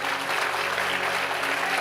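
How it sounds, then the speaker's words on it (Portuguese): Steady, full applause from a church congregation, many hands clapping together without pause through the short stretch. "Você pode aplaudir a Ele em nome de Jesus"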